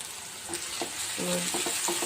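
Bitter gourd and potato curry with salt and turmeric sizzling in a pan as a spoon stirs it, with a crackling fry and several scraping strokes up close, while faint music plays underneath.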